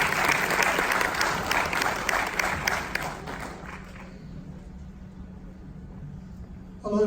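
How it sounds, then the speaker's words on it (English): Audience clapping to welcome a speaker at a summit talk, dense and lively for about three seconds, then fading into quiet room tone before a brief burst at the very end. "Big round of applause, please."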